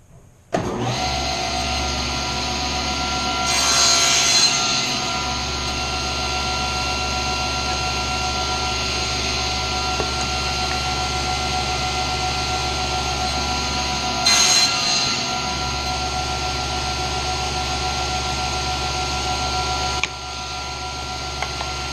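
A table saw runs steadily while trimming the tails off wooden workpieces for a finger-jointed box, a loud continuous whine with two brief surges of cutting noise and the motor dropping off near the end.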